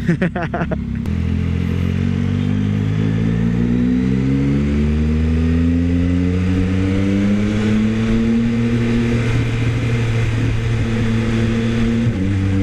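Yamaha XSR900 motorcycle exhaust roaring loudly and steadily while riding, the engine note climbing through a long pull with a brief shift near the end.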